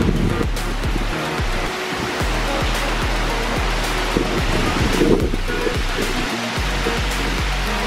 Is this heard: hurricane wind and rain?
yes